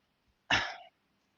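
A single short cough, close and fairly loud, stands alone in otherwise quiet surroundings.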